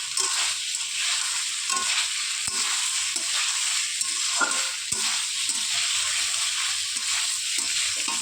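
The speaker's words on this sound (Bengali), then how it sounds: "ভেজে রাখা কচু আর আলুটাকেও দিয়ে দিলাম, দিয়ে একটু নেড়ে চেড়ে নেব, মশলাটার সঙ্গে মিশিয়ে নেব।" Fried taro and potato pieces being stirred into spice paste in hot oil for a Bengali fish curry, with a steady close sizzle and rhythmic scraping strokes of a spatula throughout.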